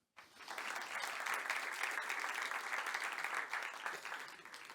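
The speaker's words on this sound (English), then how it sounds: "let's give him a round of applause" Conference audience applauding a speaker at a software engineering talk, steady dense clapping that starts abruptly and carries on for several seconds, fairly loud and even.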